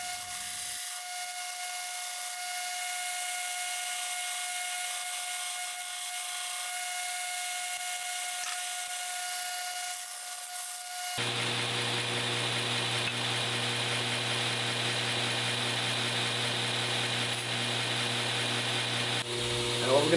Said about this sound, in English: I'll grind the line all the way off of the blade and get it back to the actual size of that template.